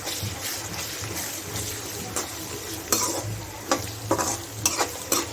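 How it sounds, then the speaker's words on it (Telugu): Ginger garlic paste frying in a pan for a Sunday uggani, a close, steady sizzle with frequent scraping and clinking of a spoon stirring against the pan. "అల్లం వెల్లుల్లి పేస్ట్ది పచ్చివాసన పోయే వరకు వేగనివ్వాలి."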